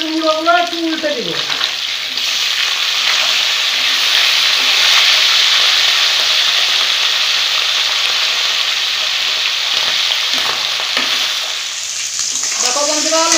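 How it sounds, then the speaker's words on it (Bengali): Turmeric-and-salt coated fish heads sizzling loudly and steadily in hot oil after being turned over, the frying hiss holding throughout, with brief talk at the start and end. "মাছের মুড়োগুলো একটু উল্টে দেব।"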